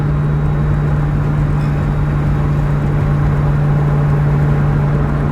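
Engine of a 2003–2004 Ford Mustang SVT Terminator Cobra heard from inside the cabin while driving: a loud, steady low drone with a constant hum and no talking.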